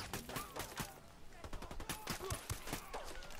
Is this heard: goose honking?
no